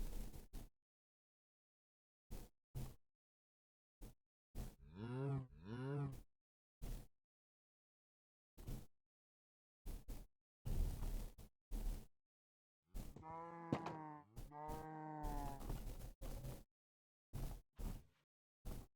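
Cows mooing in the Minecraft video game, several short tonal moos in two clusters, with sparse clicks and bursts of game sound between stretches of silence.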